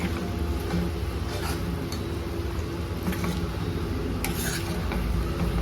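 Medium-sized prawns stirred into fried tomato masala in a pan, with a steady sizzle and scraping stir strokes running throughout, fairly close and continuous, no talking.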